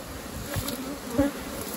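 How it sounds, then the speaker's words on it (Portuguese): A defensive swarm of honeybees buzzes around a beehive honey super, a dense, close, continuous hum with individual bees droning past. "É muita abelha esse enxame aqui, galera."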